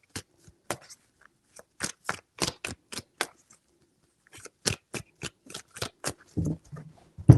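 Tarot cards are shuffled by hand in sharp, quick riffles. Two bursts of crisp flicks are separated by a short pause, close and clear, with no talking.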